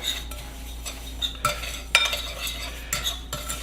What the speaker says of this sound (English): all I want to do is mix this up